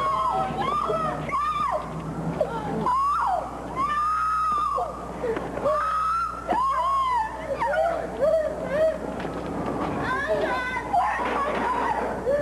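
A dog whimpers and howls in drawn-out, wavering cries after the 1994 Northridge earthquake, one after another with short pauses, while a low steady hum runs underneath and a voice speaks.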